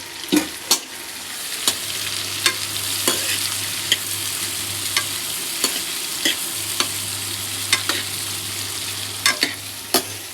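Onions and cumin fry in a pan in a home kitchen: a continuous close sizzle broken by regular sharp clicks and scrapes of a spatula stirring, with a low hum underneath and no talking.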